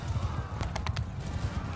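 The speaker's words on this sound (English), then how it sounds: "Is that a horse? Yeah, that's a horse." A horse clip-clops at a steady gait in a Mount & Blade II Bannerlord battle, with a brief whinny in the middle and a muffled voice underneath.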